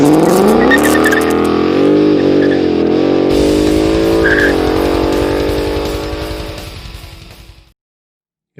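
A 2018-2020 Ford Mustang GT PP1 with a 10R80 automatic and Pilot Sport 4S tires launches hard with heavy wheelspin, its V8 roaring and climbing through shifts, loud and close, then fading away into silence.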